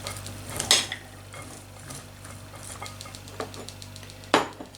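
Quiet stirring with a spoon in a pan of gambilya broad beans with spices, soft scrapes and occasional louder clinks against the metal over a faint background hum.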